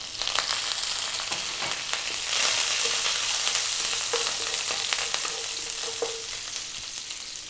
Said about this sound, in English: Then we're going to go in with the curry leaves. They can be really noisy sometimes.